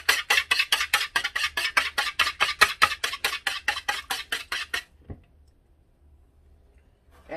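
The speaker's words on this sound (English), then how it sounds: "in this bowl, we're going to add the 2 eggs, and we're going to lightly mix" Two eggs are lightly whisked in a bowl for apple cinnamon muffins, a fast, steady run of about twenty clicking utensil strokes against the bowl that stops abruptly, followed by near silence.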